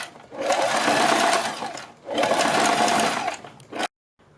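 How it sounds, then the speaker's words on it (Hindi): A sewing machine stitches along buckram around the neckline of a high neck collar. There are two close bursts of rapid, steady stitching separated by a brief pause, and then it stops abruptly. "अब हम बुकरम के बिल्कुल बराबर में पूरे गले के ऊपर सिलाई लगाएंगे"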